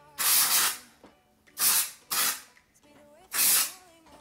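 Three short bursts of dry shampoo aerosol spray hiss, each under a second, separated by pauses with faint handling noises.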